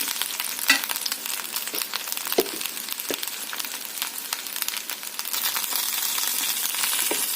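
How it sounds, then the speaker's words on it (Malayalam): Okra frying with salt in a pan, a steady close sizzle running throughout with scattered scraping stir clicks, no voices. "ഇനി നമുക്ക് നന്നായിട്ട് ഇളക്കി ഒന്ന് വഴറ്റി വേവിച്ചെടുക്കാം."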